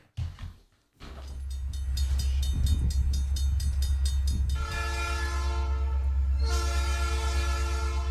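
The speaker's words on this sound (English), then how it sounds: "this train's en route to pass through some highly populated areas" A train rumbles past steadily, loud and close, while its horn blows in long sustained blasts that stop briefly and then resume. No voices.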